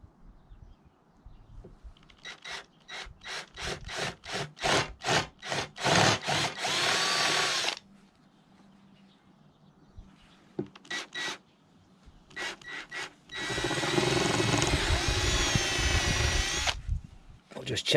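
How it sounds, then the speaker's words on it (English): A power drill with a 5mm bit bores through a car number plate for a BMW E46, running in short bursts and then one long, steady grinding run, close and loud. "Now we can go through with the 5mm drill bit."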